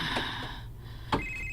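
A mobile phone rings indoors with a steady electronic tone, close and fairly loud over a low background hum, with a brief knock partway through; no one speaks.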